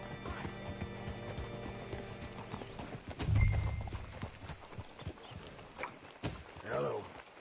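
Horse hooves clip-clop and a horse whinnies in the Red Dead Redemption 2 video game, with the hoofbeats running as a steady rhythm under a background tone and the whinny rising briefly near the end.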